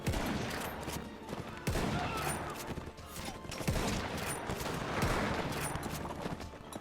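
Musket volley fire in a Napoleonic-era battle video game with French forces and dragoons, heard as repeated crackling fusillades and sharp gunshot bursts over continuous battle noise.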